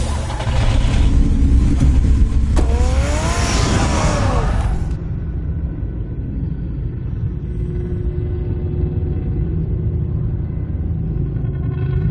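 The Batmobile in the Batman Telltale video game gives a deep engine rumble and a loud roaring rev that tapers into a steady low drone, with layered game sound effects at the start.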